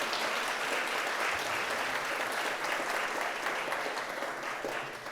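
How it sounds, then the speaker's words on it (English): An event audience gives a round of applause at a caregiving and aging-well panel, a steady, even wash of many hands clapping that thins slightly toward the end. "So let's give them a round of applause as well."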